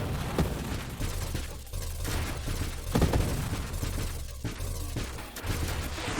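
Burst-fire shots from a ship in Nova Drift, repeated punchy thumps in uneven clusters over a constant droning background of game effects.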